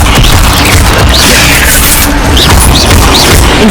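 A sustained, loud magical rumble from the Levioso levitation spell in Hogwarts Legacy on PS5, with deep booming layers and repeated swooshing, chirping flourishes over several seconds.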